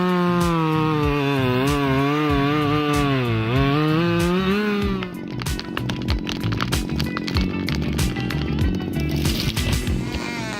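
A chainsaw cutting wood snarls loudly, its engine pitch rising and falling through revving, then turns rougher and choppier as the chain bites into timber, close and continuous.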